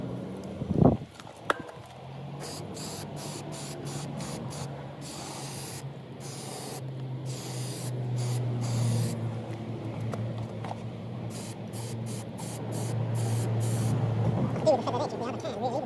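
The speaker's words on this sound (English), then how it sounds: "another layer of lacquer. Shake it every time you pick the can up." A spray can lays lacquer over rust-repair bodywork in a long, steady hiss lasting many seconds, after a couple of sharp knocks from the can being shaken, with a person talking at times.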